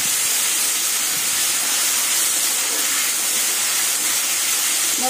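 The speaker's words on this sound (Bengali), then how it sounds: "আর সামান্য একটু জল দিয়ে দেবো। মশলাটা যাতে পুড়ে না যায় এজন্য একটু জল দিয়ে দেবো।" Water poured into a hot pan of frying masala with tomato and split green chilies, giving a loud, steady hiss of steam and sizzle that holds without a break from start to finish.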